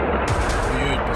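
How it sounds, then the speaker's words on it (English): Gunfire crackles in Kyiv during a Russian attack, a short burst of sharp reports heard at a distance with some background noise. "woke up to sounds of gunshot and explosions triggered by Russian forces"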